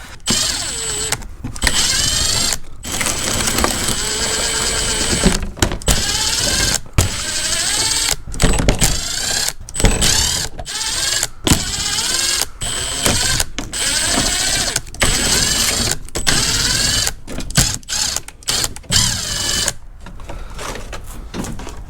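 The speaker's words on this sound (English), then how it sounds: "time for the impact gun cam" An impact gun with a 10mm socket removing bolts on a Toyota 2GR-FE V6 during an oil cooler line job: loud, close bursts of rattling hammering that repeat many times, each cut off by a brief silence.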